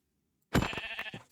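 A single Minecraft sheep gives one short, clear bleat nearby after a brief silence, with a wavering tone that fades out quickly.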